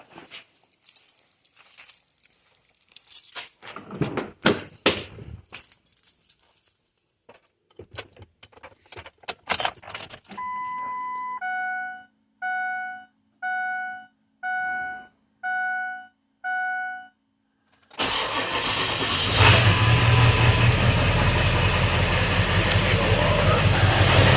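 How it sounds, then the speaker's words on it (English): Keys jangle and a run of evenly spaced electronic chimes sound before a tow truck's engine starts and settles into a loud, steady running roar. "So I'll start the truck, and then we can try this."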